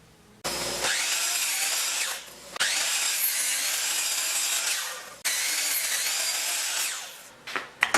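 Saw cutting hardwood boards in half for a cutting board: three loud, sustained rasping cuts separated by short pauses, close and alone with no talk.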